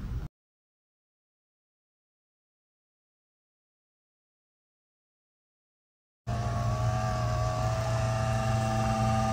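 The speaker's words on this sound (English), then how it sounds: "So you can hear the pumps running right now." Electric auxiliary coolant water pumps on a BMW M5 with the S63 engine, running after radiator and water pump replacement, a steady continuous whir and hum that starts abruptly after a long silence.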